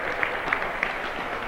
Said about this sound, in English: Hemi gets a round of applause